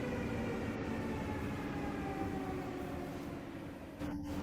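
A Scania S650 truck with a 16.4-litre DC16 V8 coasts down on a dyno, a broad steady mechanical roar and whine that fades slightly toward the end, loud and continuous with no voices.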